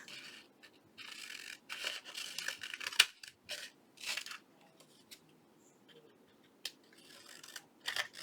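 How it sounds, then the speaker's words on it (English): Scissors cutting paper pieces apart, a series of close, crisp snips and papery rustles coming in uneven clusters with short pauses between them, in a quiet room with no talk. "I think I'm going to cut these apart today."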